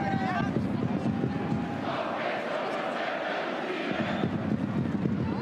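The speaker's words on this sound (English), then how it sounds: "the chant from the home crowd, let's go Union, fight and win" Home supporters at an FC Union Berlin women's Bundesliga match against FC Köln chant in a steady, rhythmic crowd roar that fills the stadium, with a commentator talking over it.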